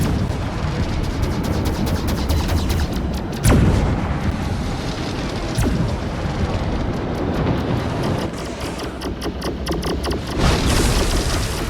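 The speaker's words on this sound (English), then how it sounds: "Alright, there are the frickin' rockets now." Aircraft rockets slamming into a warship in World of Warships, a heavy rumbling barrage of booms with two sharp impacts standing out amid continuous battle noise.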